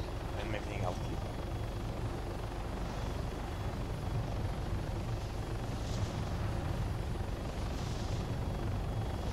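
An AH-6 helicopter flying in a military video game, a steady dense rotor and engine drone held throughout at an even level, with a voice talking over it.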